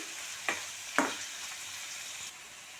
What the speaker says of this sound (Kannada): ಈಗ ಇದನ್ನು ಹೈ ಫ್ಲೇಮ್ ಒಳಗೆ ಒಂದು 2ರಿಂದ 3 ನಿಮಿಷ ಬೇಯಿಸ್ಕೊಳ್ಳೋಣ.